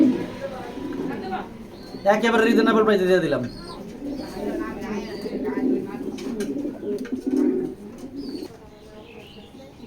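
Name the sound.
racer pigeons cooing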